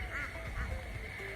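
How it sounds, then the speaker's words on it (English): Ducks quack faintly in the distance outdoors in Ubud, Bali, a couple of short calls over a steady background hum. "The ducks, you hear the mad ducks over there?"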